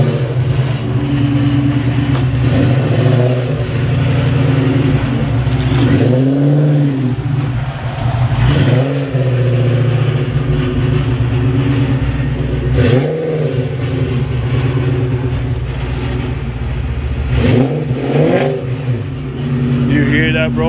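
A Ford Mustang SVT Cobra's engine revs repeatedly at a car meet, loud throttle blips rising and falling over a constant idle, while people talk nearby.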